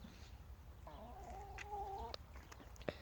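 A hen gives a drawn-out, wavering cluck followed by a couple of short clucks, fairly close, over quiet outdoor garden background.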